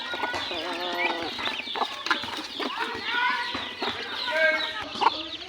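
Pet turkeys and other farm fowl clucking and chattering close by during feeding with leftover rice, with a continuous overlapping stream of calls and short squawks throughout, a person's voice occasionally mixed in.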